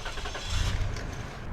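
A Toyota car engine cranks and catches, settling into a steady rumbling idle close by, with no talking.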